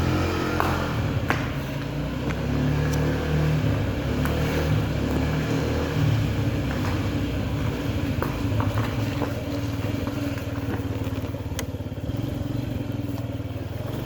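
A Honda Zoomer scooter is ridden with its small engine putting out a constant buzzing drone, mixed with wind rush and light rattling for the whole stretch.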